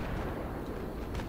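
Dense battlefield noise in Battlefield 3 multiplayer, a steady roar of gunfire and blasts blending into a continuous rumble with no clear separate shots, loud and unbroken throughout.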